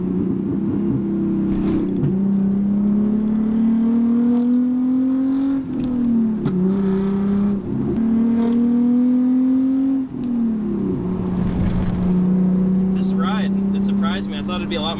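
Hyundai Genesis Coupe 3.8 V6 engine drones loudly while driving, revs climbing steadily then dropping sharply with each shift, several cycles in a row, with a voice talking over the engine.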